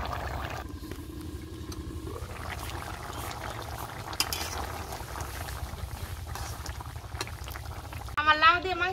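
A pot of chicken and bottle gourd curry broth bubbles at a steady boil, a continuous low simmering hiss, with a voice briefly speaking at the very end.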